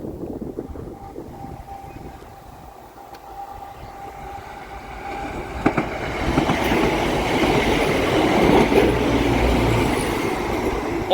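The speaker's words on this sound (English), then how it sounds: "There's the train." A train made up of two Class 170 units approaches and passes a level crossing in Nottinghamshire, rising from a distant rumble to a close, loud run of wheel clatter and rail noise.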